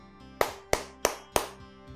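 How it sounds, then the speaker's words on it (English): Four quick, evenly spaced hand claps sound close and clear, each a crisp slap with a brief room tail, and no voices in between. "Simon Says clap four times."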